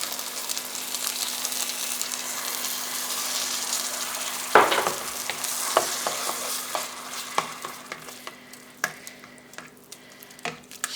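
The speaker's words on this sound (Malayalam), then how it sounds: "ശർക്കര പാനി ഒഴിച്ചു കൊടുത്തിട്ടുണ്ട്" Jaggery syrup poured over broken wheat in a hot pan gives a sharp burst of sizzle, then settles into steady frying hiss with repeated spoon scrapes and clinks as it is stirred, close and without talk.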